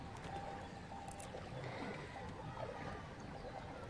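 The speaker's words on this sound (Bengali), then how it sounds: "নৌকাটা তো ঠেকেই গেছিলো মাটিতে, আবার পাশ দিয়ে একটু কায়দা করে জগন্নাথ নিয়ে যাওয়ার চেষ্টা করছে" A boat moving on the Ganges river near a river island, its hull nudging through shallow water close to a muddy bank, giving a steady low wash of water with faint trickles, continuous and fairly close, with no talk.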